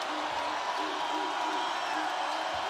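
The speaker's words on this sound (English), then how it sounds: "Crowd back to their feet now with their team back up by 1." Basketball crowd at a women's WNIT championship game between South Dakota and FGCU, a steady broadband roar of cheering fans filling the arena, dense and continuous throughout.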